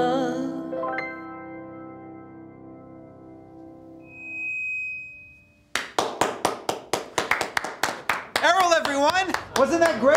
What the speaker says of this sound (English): I heard someone clapping.